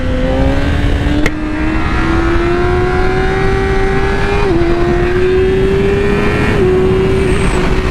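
A Yamaha R6 sport motorcycle's engine holds a high, steady, loud rev during a wheelie, its pitch climbing gradually with a brief dip. Heavy wind rush runs throughout, with no voices.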